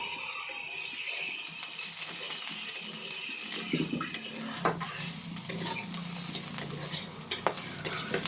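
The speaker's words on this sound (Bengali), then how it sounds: "ভালো করে মিশিয়ে নিই আর এবার দিয়ে দেবো জল" Fish and bottle gourd curry is stirred in a pan with a continuous sizzle and scraping. Water is then poured in, and the sizzle gives way to bubbling and wetter clinks from the spoon.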